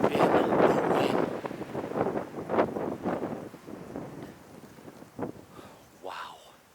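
Strong wind gusts buffet the microphone outdoors on public hunting land in Kansas, a loud continuous roar that swells and fades, with brief talk breaking through.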